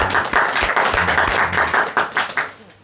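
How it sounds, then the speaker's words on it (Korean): A small group claps during a morning Buddhist dharma talk, the separate hand claps distinct and close, uneven at first and then thinning out into a few scattered claps. "큰 박수 부탁드립니다"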